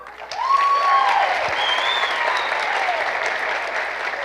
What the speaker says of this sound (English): Feel free to give them applause for each one here.